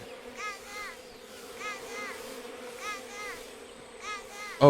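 Bees buzzing close by in Metal Gear Solid Delta: Snake Eater, a steady droning hum with repeated rising whines of insects circling, ending with a sudden louder knock.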